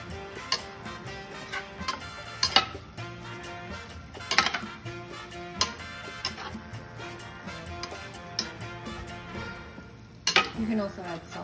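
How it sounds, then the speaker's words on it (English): Nacho ingredients being stirred together in a pan for Cinco de Mayo nachos: irregular scraping and tapping of a utensil against the pan over a low sizzle, with sharper knocks scattered throughout. "And mix it all together."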